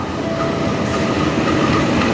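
Steady rumbling of an Indonesian passenger train on the Kroya–Pasar Senen line, hauled by a CC203 locomotive, rolling along the rails: a continuous loud clatter with faint rhythmic wheel noise and no voices.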